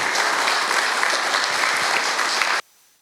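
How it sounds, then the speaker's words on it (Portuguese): A church congregation claps during an Easter service, a loud, dense wash of applause from many people that holds steady for over two seconds and then cuts off abruptly into near silence. "aplauda novamente o nome de Jesus"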